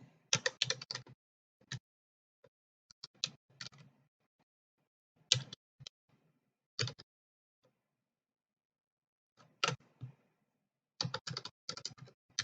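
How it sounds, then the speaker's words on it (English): Close keyboard typing on a computer while entering a file path in a terminal, arriving in short clattering bursts separated by silent pauses. "Then we type the path to the file that we're willing to share"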